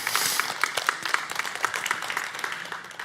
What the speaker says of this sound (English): I think we should give that a big applause.